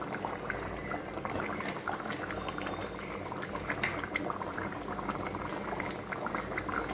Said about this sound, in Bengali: একটু ঝোলটা ফুটে আসুক